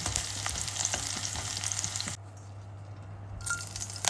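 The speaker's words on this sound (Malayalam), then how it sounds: "ഇത് നന്നായിട്ട് ഫ്രൈ ചെയ്തെടുക്കണം" Hot oil sizzles steadily in a pan as ingredients for Kerala-style ginger curry (inji curry) fry, the crackle dropping quieter for a moment midway before swelling again, close and without voices.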